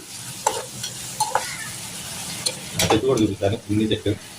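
Curry leaves for a village-style mutton gravy curry sizzling in a hot pan, with sharp crackles and stirring scrapes that grow busier toward the end.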